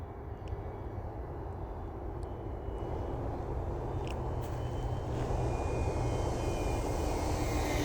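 An RC VTOL model aircraft in fixed-wing flight, its steady electric motor and propeller drone running continuously and loud throughout, with no talk.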